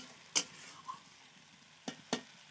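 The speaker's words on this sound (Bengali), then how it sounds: "তো ভালো করে কষিয়ে নেব" Mutton masala with chopped tomatoes fries in a pan with a soft steady sizzle, broken by a few sharp clicks and scrapes of a spatula stirring, quiet and close.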